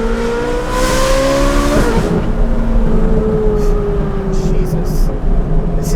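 A straight-piped Ferrari 458 engine revs hard, rising in pitch then dropping off, with a raspy exhaust roar that stays loud and close for the whole stretch.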